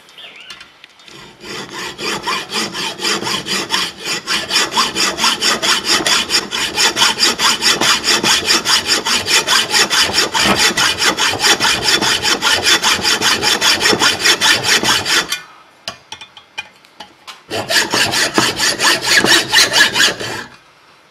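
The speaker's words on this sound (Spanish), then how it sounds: "El siguiente paso es cortar con una sierra manual toda esta parte superior." A hand saw cutting the top off a spark plug, with steady rhythmic back-and-forth strokes close by for about fifteen seconds, a short pause, then the sawing resumes.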